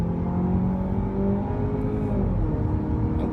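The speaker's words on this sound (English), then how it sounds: "but the engine sounds nice." The engine of a 2018 Jeep Renegade drones steadily as it accelerates uphill, a continuous rumbling hum with a gently rising pitch heard from inside the cabin, with no talking.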